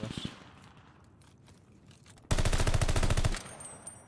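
A Tuscan assault rifle in a ranked video game fires a fast, loud burst of about a second, a rapid even rattle of shots after a quiet stretch with faint footsteps and distant noise.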